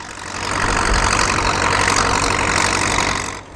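A Caterpillar crawler tractor's engine runs loud and steady up close while it pulls a trailed reversible plough at a working event, with a constant low rumble that fades slightly at the end.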